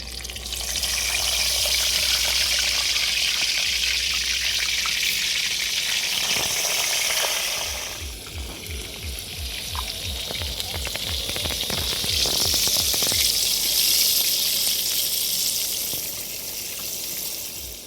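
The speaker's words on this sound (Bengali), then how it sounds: "এবার একে একে বেগুনগুলো ভাজা করে নেব" Eggplant slices frying in hot oil in a village kitchen: a loud, steady sizzle and crackle that carries on throughout, with a short run of rhythmic clicks partway through.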